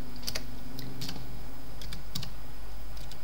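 Keys clicking on a computer keyboard while Arabic text is typed into Microsoft Word, a few quick bursts of taps spread over the moment against a steady low hum, close by and no one talking.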